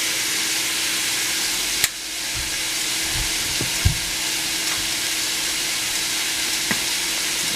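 Chicken thighs and vegetables searing in a hot pan give a steady, close sizzle throughout, broken by a few faint knocks and clinks, with no talking.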